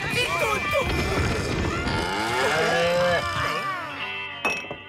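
A cartoon cow moos in a long, drawn-out low call in an animated milk commercial, loud and close, with a brief clink near the end.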